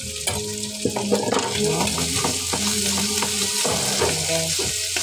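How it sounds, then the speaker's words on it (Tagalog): Garlic and onion frying in a hot pan for a home recipe, a steady broadband sizzle with light stirring scrapes, close and continuous, with background music playing underneath. "Doon na natin ilalagay yung bawang at sibuyas."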